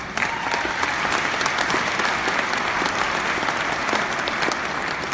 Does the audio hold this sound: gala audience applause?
yes